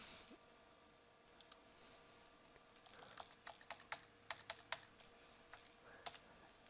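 A computer mouse clicks repeatedly while numbers are edited at a desk, giving sharp, close ticks that start sparse and bunch into a quick irregular run before trailing off.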